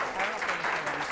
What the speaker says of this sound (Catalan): un aplaudiment també pel Miquel.